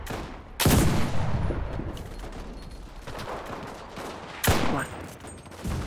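Gunfire in the WWII shooter Enlisted: two loud, sharp shot bursts roughly four seconds apart over a continuous bed of distant battle noise and scattered fainter shots, with no talking.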